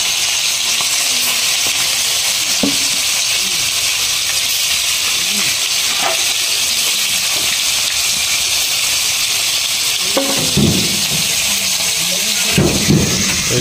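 Amodi fish fry in hot oil with a steady, loud, broad hiss throughout, broken by a few sharper crackles and pops near the end.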